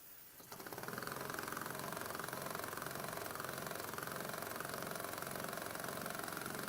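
A small oscillating steam engine running on compressed air and driving a dynamo starts up, then keeps a fast, steady mechanical chatter at close range with no talk.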